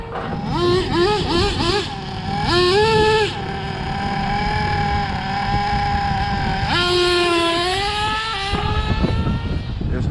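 An RC drag car on a no-prep track gives off a loud, high, buzzing electric whine that rises and falls in pitch several times, with short bursts near the start and a long sustained run, while voices are faintly audible underneath.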